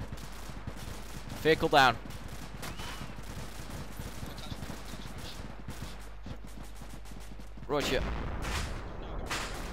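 Gunfire during a military training operation, sharp bursts of shots at close range with radio-style speech over a steady hum, a burst early and another near the end.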